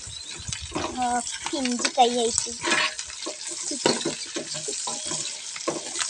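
Ginger, green chillies and garlic frying in oil for a fried mango pickle, a steady close sizzle with stirring, while a voice talks over it most of the time.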